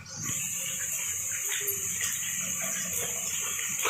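Kachnar buds go into a pot of water at a full boil while cooking kachnar gosht, giving a steady, close bubbling hiss that runs without a break for the whole moment, with no talk over it.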